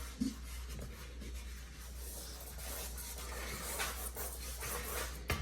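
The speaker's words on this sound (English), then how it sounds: "I'm going to turn over to some compressed charcoal so I can make some strokes and noise and some mark making throughout the drawing." Compressed charcoal dragged across paper in quick, repeated strokes, a steady close scratchy rubbing with short accented marks over a low constant hum.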